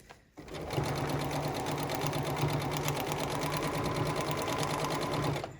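A sewing machine stitches a quilt block with a quarter-inch seam, running as a steady, close, continuous mechanical hum and rattle with no pauses and no talking.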